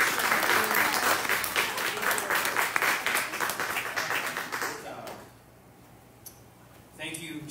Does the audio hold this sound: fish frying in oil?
no